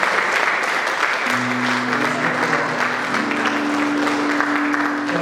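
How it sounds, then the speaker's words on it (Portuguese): A church congregation applauds steadily at the close of a Portuguese-language sermon, a dense wash of clapping that holds evenly throughout, with a sustained low musical tone entering partway through. "Você pode aplaudir Jesus?"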